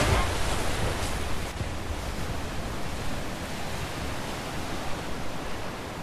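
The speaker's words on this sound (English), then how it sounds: "Waterfall!" A waterfall in the video game A Way Out gives a steady, dense roar of rushing water that stays loud and even throughout, with no break and no talking over it.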